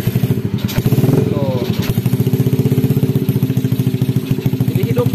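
Yamaha Vega R motorcycle engine fitted with a modified BRT dual-band CDI, running close and loud with a fast steady putter, while someone talks over it.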